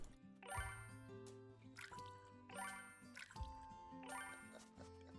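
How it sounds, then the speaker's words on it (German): Crops being watered in the farming video game Big Farm Story: a soft pouring, trickling effect with bright chiming tones, repeated three times in an even rhythm and heard quietly. "Aber ich muss jetzt erstmal hier alles gießen"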